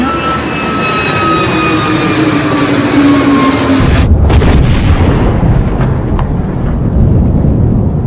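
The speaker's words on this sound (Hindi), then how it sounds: "कुछ इस तरह से यह विमान क्रैश हुआ" Airplane engine droning loudly and steadily with a rising whine that cuts off abruptly, followed by a continuing heavy rumble, in a reconstruction of the plane crash carrying Ajit Pawar from Mumbai to Baramati.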